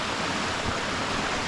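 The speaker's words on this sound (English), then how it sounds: "there is water here and people are washing clothes" Flowing water at an Ethiopian riverside spot where people wash clothes, a steady broadband rush, constant and fairly loud, with no voices.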